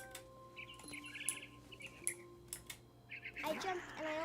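Small birds chirp and tweet in a forest scene in the game What Remains of Edith Finch, light bright calls scattered over a soft ambient bed with a few clicks, and a voice speaks across it.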